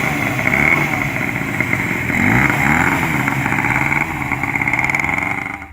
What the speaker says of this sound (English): Powered by a water-cooled 2-stroke engine, it features an innovative pump-free cooling system that was light years ahead of its time.